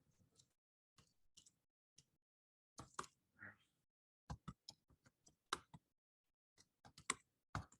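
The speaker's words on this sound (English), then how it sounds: "I can just start typing stuff." Someone types on a computer keyboard in a terminal text editor, producing sparse, irregular clicks and taps, some in quick bursts and others spaced apart, quiet and close with no voices.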